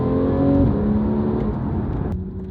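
Porsche 911 Carrera GTS with sports exhaust blipping its engine after a downshift, a loud close rev rising then falling away in a short burst.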